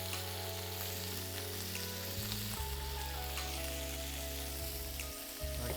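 Meat sears with a steady, loud sizzle in a hot pan while pieces are turned for birria tacos, the frying hiss continuous throughout with a low hum beneath and no talking.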